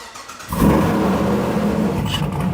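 A supercharged work van engine revs sharply through its exhaust, jumping from quiet to a loud, sustained roar that holds steady near the microphone with slight wavering toward the end.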